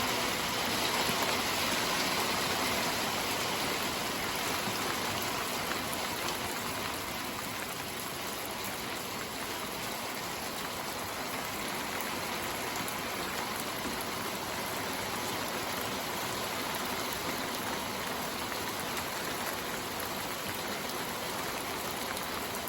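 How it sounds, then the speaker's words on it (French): Hail mixed with rain pours down during a spring squall, a loud dense crackling hiss that stays steady and unbroken throughout, with no voices. "Que de la grêle et neige mêlée"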